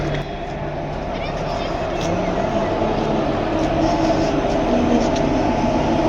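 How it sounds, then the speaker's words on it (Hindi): The Bagh Express stands at Kathgodam railway station, with a steady, loud rumble of engine and station noise filling the platform. "ये देखो ये बाग एक्सप्रेस, और इसी में मैं आया हुआ हूँ आज"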